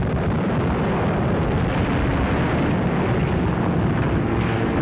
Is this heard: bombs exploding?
yes